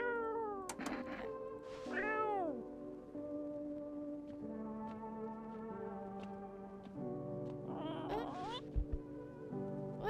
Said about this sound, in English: Hi, cat. Meow. Pet the cat.